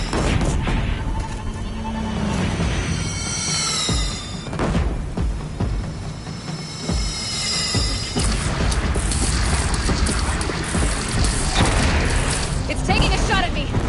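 Cannon fire and explosions in the video game Horizon Zero Dawn, heavy booms and crashes over continuous game noise, with voices speaking in between.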